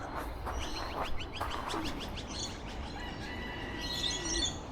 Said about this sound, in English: Here come some pigeons, 5 of them, going straight over.